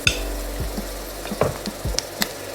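Chopped onion, ginger, garlic and green chili sauté in a pan, a soft sizzle broken by several spoon scrapes and clinks against the pan.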